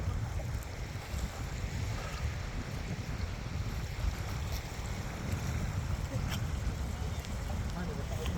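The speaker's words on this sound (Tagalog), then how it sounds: "Malakas ang alon." Strong waves wash against the shore of a wide lake at Aspen Beach on a rainy day, a dense rolling wash heavily buffeted by wind across the microphone, with voices faintly mixed in.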